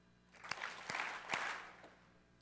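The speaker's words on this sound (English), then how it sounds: "Will you please stand for a three-clap salute?" An audience at an education event claps in a quick salute, a few sharp claps over a burst of scattered applause, heard from a distance and fairly faint.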